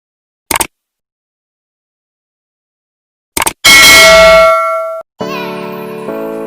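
Two short clicks, then a bright ringing chime that sustains and fades, followed by a second softer multi-tone chime; clear and close with silence between.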